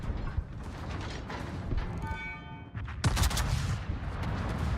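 Naval cannon salvos from a German battleship in World of Warships, with dense rumbling gunfire and several booming shots, a loud burst near the end over continuous battle noise.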